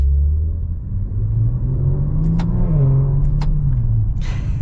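A 2022 Maserati Levante Modena V6 with a ZF 8-speed automatic revs up in a smooth rising sweep and then settles back, heard close and steady with a few sharp clicks on top.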